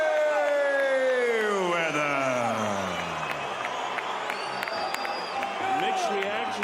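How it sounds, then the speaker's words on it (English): A large boxing arena crowd at a Floyd Mayweather vs. Juan Manuel Marquez fight cheers, whoops and applauds in a dense, sustained roar, with a commentator speaking over the noise. "mixed reactions by the crowd"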